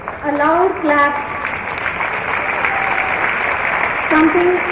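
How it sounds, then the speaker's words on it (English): An audience at a college student session applauds loudly in a dense, sustained wash of claps, with a voice speaking over it at the start and end. "A loud clap."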